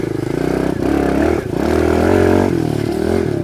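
A Kawasaki KLX 110R dirt bike without a clutch revs close and loud, its small engine buzzing and surging in pitch with short dips between bursts of throttle.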